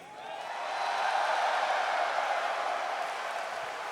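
A large esports arena crowd at The International 2017 Dota 2 All Star Match cheers for Team Radiant, a sustained broad roar that swells and holds steady throughout.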